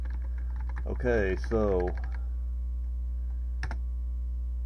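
Keystrokes on a repaired Tandy Model 200 portable computer keyboard, a few soft clicks under a constant low hum, with someone speaking briefly over the start.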